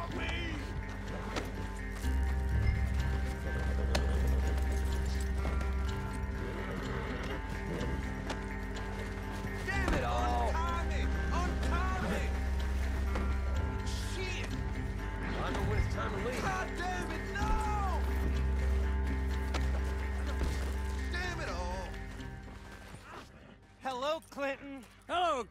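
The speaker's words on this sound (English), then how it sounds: "He just ran into him full speed on a horse." Horse hooves clip-clop in a steady rhythm as a horse runs at full speed in the Red Dead Online game, with music and low rumble underneath and occasional voices over it.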